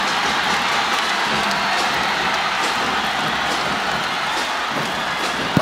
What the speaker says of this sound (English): Listen to this Adamson crowd go crazy.